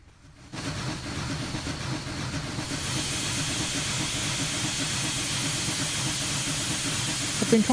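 A Challenger steam locomotive in Train Simulator Classic speeds up on a downgrade, a loud, steady broadband hiss and rumble of steam and running gear that swells after a quiet start and holds without break.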